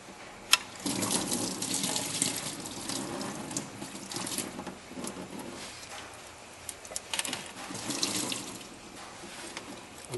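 Antifreeze drains from a 1996 Jeep Grand Cherokee water pump hose into a bucket, a steady splashing trickle with uneven spurts close by, with faint bird cooing in the background.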